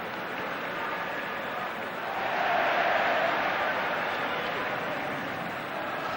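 Stadium crowd in Rome during the 2001 UEFA Cup match between AS Roma and Liverpool, a steady broad roar of many voices that swells briefly in the middle, heard from a distance.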